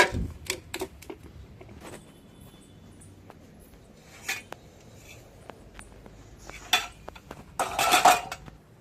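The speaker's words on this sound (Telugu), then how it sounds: "ఇక్కడ గిన్నెలు అయితే ఉన్నాయి ఒక్కొక్కడుగా తీసుకెళ్ళి బయట అయితే వేస్తాను" Dirty cooking vessels and utensils clank and clink as they are picked up and carried out one by one, producing sharp, irregular metallic knocks and jangles, louder toward the end, with no talking.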